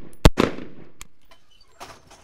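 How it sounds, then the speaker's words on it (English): Rifle shots during a combat drill at a training range: a sharp close report followed by a second quick shot, then a fainter third crack and a trailing echo, with no talking. "Those first two bullets are fast. You've got to get them out of the gun fast."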